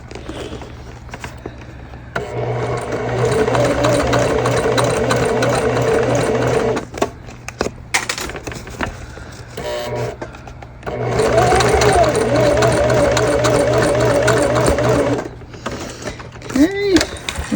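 A sewing machine stitches an Aurora bag in two long, loud, steady runs with short pauses between them, close and mechanical, with a brief squeak near the end.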